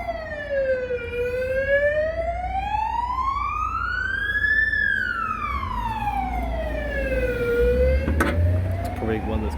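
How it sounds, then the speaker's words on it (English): An ambulance siren sounds loud and near in a slow wail that rises, peaks and falls away, with faint traffic rumble underneath. "There's been a lot of ambulances lately."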